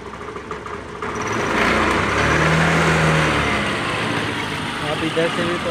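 A Hero Maestro or Honda Activa scooter idles with a vibrating handlebar, its small engine a steady, close, low chugging hum throughout, with someone talking over it.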